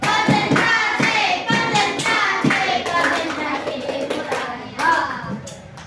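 In a primary classroom lesson, children play a rhythmic counting-and-clapping game: sharp group claps land in short bursts between loud chanted voices of the children and their teacher.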